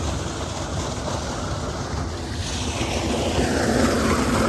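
Solar-powered borewell pump running in a farm field in summer heat, water gushing out steadily; a continuous broadband rushing wash, fairly loud and building slightly, with no voices.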